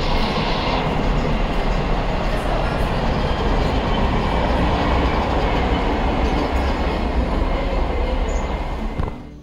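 A train rumbles steadily past a house in Barmer, its loud, continuous roar and rolling wheel noise filling the scene without a break before easing slightly at the very end, with no voices heard.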